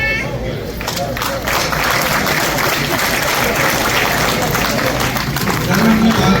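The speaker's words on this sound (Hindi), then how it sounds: "आपके लिए तालियां" Audience at a religious gathering in Surrey applauds: sustained, dense clapping from a large crowd, loud and steady throughout, with a voice over it.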